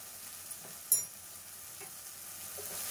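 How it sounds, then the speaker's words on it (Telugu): Garam masala and other spices fry in oil before minced mutton is added, giving a soft, steady sizzle with a sharp utensil tap near the start and a few faint scrapes. "ఈ మసాలాలన్నీ నూనెలో ఫ్రై చేద్దాం కాసేపు."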